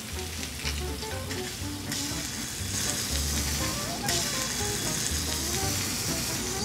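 Fish frying in a pan with gochujang butter, giving a steady close sizzle with bursts of crackle and occasional stirring or scraping, with no talk.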